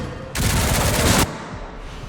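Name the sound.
gunfire in video game Resident Evil Requiem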